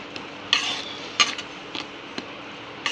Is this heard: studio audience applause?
no